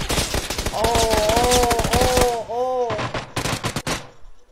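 Rapid automatic gunfire from the video game PUBG, a dense run of shots lasting a few seconds amid loud game noise, with a voice briefly exclaiming over it.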